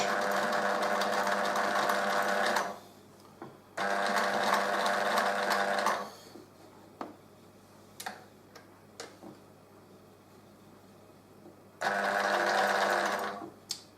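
A sewing machine stitches a lock stitch seam in three close, loud bursts of rapid mechanical whirring and ticking. Quieter pauses between the bursts hold faint clicks and handling noises.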